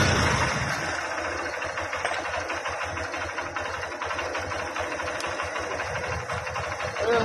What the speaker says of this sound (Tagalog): Tahimik na ulit yung kanyang makina.